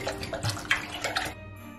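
Water poured into a pot of mulled wine during holiday cooking, a running splashy pour lasting about a second and a half at moderate level before it stops, with no talk over it.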